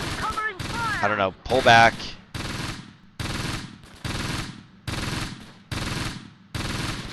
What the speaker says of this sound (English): That machine gun just like shredded him